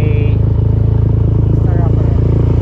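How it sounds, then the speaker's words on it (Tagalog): A motorcycle engine idles with a steady, low, throbbing rumble close by as someone talks over it. "Start na yung motor ko."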